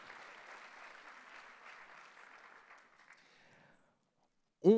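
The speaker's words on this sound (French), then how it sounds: "On l'applaudit bien fort, s'il vous plaît, Pamela." Audience clapping at a diploma ceremony honoring a graduating class, steady applause that fades out near the end, followed by a brief loud thump.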